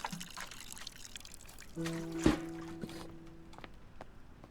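Water poured onto a Sapphire Gloom mushroom plant in the Botany Manor game, a short soft splash and trickle rising around the middle of the clip, then fading under quiet ambience.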